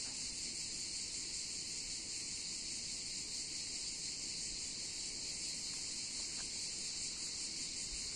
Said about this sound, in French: Je vous laisse écouter les grillons et les cigales.